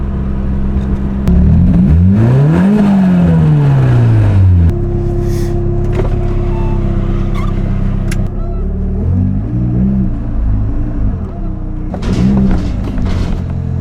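A car engine revs up and down repeatedly, rising and falling in pitch, loud and close, with a voice heard briefly over it.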